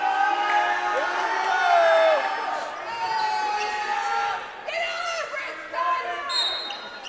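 A high school basketball crowd in a gym roars and cheers after a foul call, a loud, excited swell of shouting voices with whistles and shrill cries mixed in, fluctuating over several seconds.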